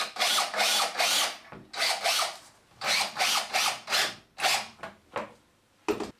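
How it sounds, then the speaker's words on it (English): A power drill drives screws down through a block for a grab adhesive strength test, with repeated short whirring bursts of varying length separated by brief pauses, close and fairly loud, with no voices. "And then I'm going to screw that down."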